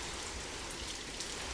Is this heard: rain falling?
yes